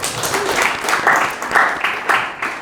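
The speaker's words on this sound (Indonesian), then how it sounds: "Tepuk tangan semua." Audience claps at a campus dialogue event on AI-driven content creation, a short burst of fairly loud group applause with rhythmic pulses, fading slightly at the end.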